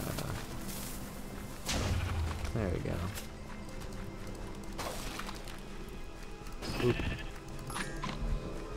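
Minecraft Dungeons game sounds under a talking voice, with a few short sheep bleats mixed among thuds and clopping effects.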